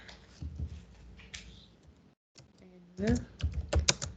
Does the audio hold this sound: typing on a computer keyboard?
yes